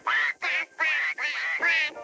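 Rapid string of five loud, close duck quacks from a talking toy, evenly paced with short gaps between calls, heard alone without talk.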